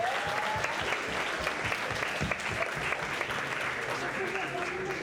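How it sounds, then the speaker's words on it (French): Audience at the A7 Talent 2025 talent show applauding the sound engineer, a steady, dense clapping that holds for several seconds with a faint voice or two underneath. "On applaudit l'ingé son."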